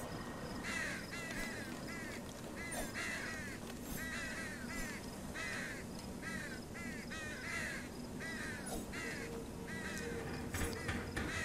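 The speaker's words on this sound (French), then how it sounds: "Il y a encore des corbeaux ici." Repeated crow caws ring out in short bursts over a dense, steady ambient bed in the video game Them & Us, the calls moderately loud and recurring throughout.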